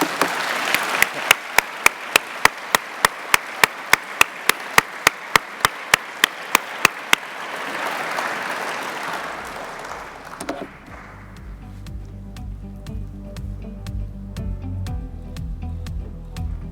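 Audience applause for new award recipients at a statistics society award ceremony, loud sustained clapping from a large hall that fades after about ten seconds into quieter room sound.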